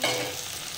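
Fish frying in hot, splattering oil in a pan, a dense sizzle that flares up loudly at the start and then settles into a steady crackle, with no voices.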